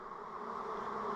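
Honeybees buzz steadily at an open hive during a swarm inspection, a soft continuous drone of many insects close by with no speech over it.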